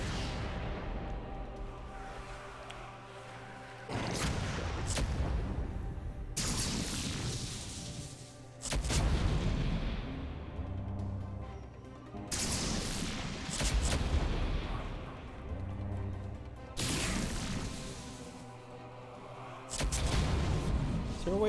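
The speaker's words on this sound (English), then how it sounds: "Battle card activated. Torpedo incoming." Torpedo attack explosions in the space strategy game Sid Meier's Starships: a series of separate heavy blasts about every few seconds, each with a sharp crack and rumbling decay, over a steady low background tone.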